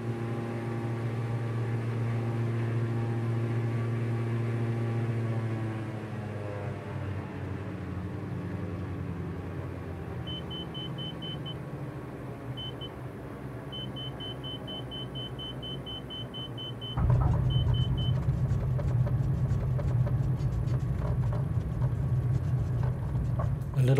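A light aircraft lands on runway 26 at Brampton in Microsoft Flight Simulator, with a steady engine drone that eases as it descends, a soft repeating beep, and a sudden louder rumble as the wheels meet the runway, with no talk.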